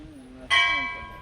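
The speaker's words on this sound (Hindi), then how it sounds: "घंटी" Bell struck once during a talk on meditation, a bright ringing onset with long sustained overtones slowly fading; a voice speaks just before it.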